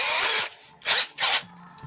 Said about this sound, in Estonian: Vajame kuskilt saada trelli.